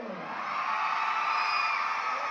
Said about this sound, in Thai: ขอเสียงเชียร์น้ำเงินดังๆหน่อยเร็ว